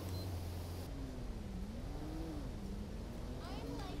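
Motorcycle engine in the video game GTA 5, revving steadily with a wavering pitch that rises and falls under a continuous loud drone of game noise, with faint talk in the background.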